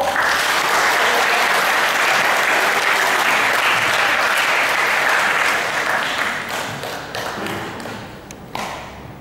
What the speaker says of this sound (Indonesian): kita sambut dengan tepuk tangan untuk Ibu Tia